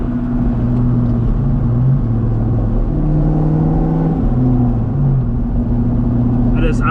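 A 1997 Ford Mustang Cobra engine revs and drops through gear shifts from inside the car, a loud, steady droning rumble with pitch steps at each shift.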